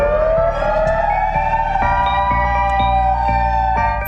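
An ES612 electronic siren wails loudly at close range, a sustained rising tone with a fast pulsing edge running throughout the few seconds with no voices.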